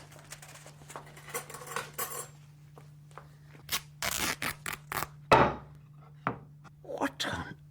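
Scissors snipping in a radio drama ghost play, heard as a series of short crisp cuts and rustles at close range, with a low steady hum beneath and brief moments of speech.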